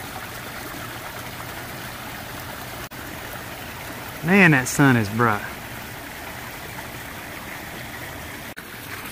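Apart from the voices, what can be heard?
water cascading in koi pond waterfall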